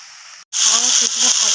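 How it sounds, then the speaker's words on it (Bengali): Spinach hits a pan of hot oil with fried fish and gets stirred: after a brief near-silent stretch, a loud burst of sizzling hiss rises and continues, with soft stirring knocks beneath. "ভাজা হয়ে গেছে, আমি এর মধ্যে পালং শাকটা দিয়ে দেবো"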